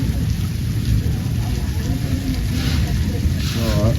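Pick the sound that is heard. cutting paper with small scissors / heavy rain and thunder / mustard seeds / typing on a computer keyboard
heavy rain and thunder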